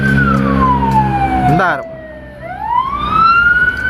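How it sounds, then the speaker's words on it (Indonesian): Siren of an ambulance-type hearse passing on a toll road near Cinere–Jagorawi, loud and close, its wailing tone sweeping down then rising again as it goes by, with a brief voice and traffic noise beneath. "Takutnya suara saya ini kejar-kejaran sama suara ambulan ya."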